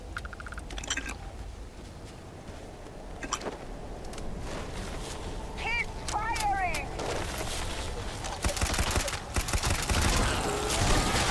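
Gunfire in the space game Starfield, scattered shots and bursts mixed with game effects and chatter throughout, growing denser and louder toward the end, with people talking over it.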